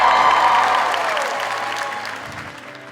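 An audience claps in a dense wash of applause, loud at first and gradually fading over a few seconds.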